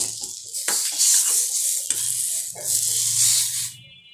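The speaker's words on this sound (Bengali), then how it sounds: "আমি এখন পেঁয়াজটা দিয়ে দিব চামচে করে।" Onion frying in a pan for a black gram (kalai) dal, a bright hissing sizzle filling the clip with a few spoon scrapes and clatters, loud and close, no talking.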